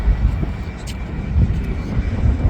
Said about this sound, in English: The A330 is still taxiing.